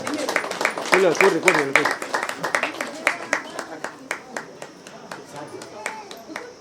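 Ceremony audience at a pyramid opening event clapping loudly, dense applause at first that thins into scattered, individual claps as it fades, with voices mixed in.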